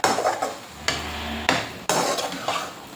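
A spoon stirs ridge gourd, tomato and coriander in an oily pan, giving several scraping strokes in bursts with brief pauses and a soft sizzle underneath, close and fairly loud.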